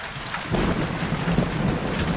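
Steady heavy rain pours down through a thunderstorm, with a low rumble of thunder swelling in after a softer opening moment and sustaining throughout.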